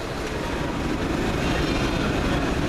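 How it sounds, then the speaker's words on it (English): A loud, steady rumble of an EWS-livery Class 31 diesel locomotive passing close by on a heritage railway, with continuous engine and wheel noise throughout and no voices. "Courtesy of the Dean Forest Railway, guest locomotive number 1. The EWS livery class 31, 31466"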